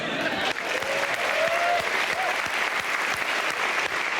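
Sustained applause from a large comedy show audience, dense clapping filling the room at a steady volume, with faint voices mixed in.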